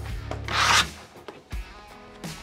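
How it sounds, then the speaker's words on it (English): Epoxy is scraped off a cut wooden Easter log in a few short, close rasping strokes, one louder drag standing out among lighter scuffs and knocks. "Let me scrape this off."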